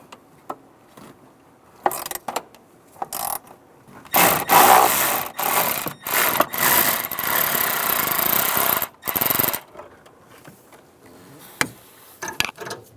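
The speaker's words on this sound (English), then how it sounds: "Take that bolt out." A 10mm ratchet with a swivel socket works a bolt loose deep under a 2007-2013 Chevrolet Silverado, with bursts of rapid ratcheting clicks and a long stretch of rough grinding, close and loud between quiet pauses.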